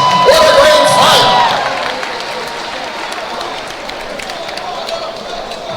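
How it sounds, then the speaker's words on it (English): Crowd cheering and applauding at an Elevate FC MMA event after a fight, loudest at first and then settling into a steady roar, with whoops and an announcer's voice over it. "Ladies and gentlemen, round of applause!"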